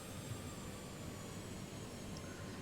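Engines of an Airbus A330 in Flight Simulator 2020 spooling up as the throttle increases, a steady low jet roar with a faint whine held at a constant quiet level.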